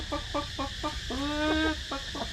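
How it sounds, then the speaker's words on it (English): Chickens cluck in a short run of repeated clucks, then one longer drawn-out call and a couple more clucks, close and clear over a steady outdoor background at a tropical animal attraction. "Look at all the chickens, guys."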